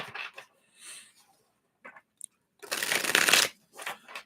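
Tarot cards are shuffled in short riffling bursts, then a longer brisk shuffle. The sound is close, with brief quiet gaps between the bursts.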